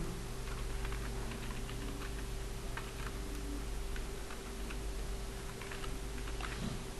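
Keys on a computer keyboard are tapped in short irregular bursts over a steady background hum, faint and a little distant, with no talking.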